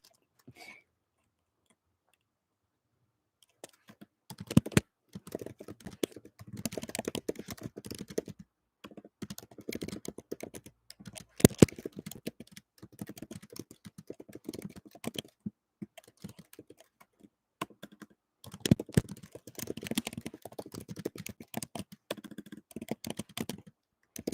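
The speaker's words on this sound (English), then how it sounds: "I can hear the concerned typing noises" Close computer keyboard typing comes in rapid bursts of clicking keystrokes separated by short pauses, starting after a few seconds of near silence.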